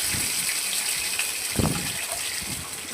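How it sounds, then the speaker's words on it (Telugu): Water squeezed by hand out of overnight-soaked sago pearls, a soft, faint trickling gush with a brief splashy burst midway, close and without talk. "వాటర్ అన్నీ పిండేసి వేసుకోవాలి,"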